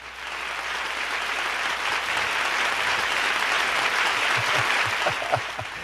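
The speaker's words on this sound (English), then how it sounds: "Let's give him a big round of applause." A concert audience at a Lowrey organ product class claps steadily for a performer, a dense, even wash of applause lasting several seconds with no speech over it.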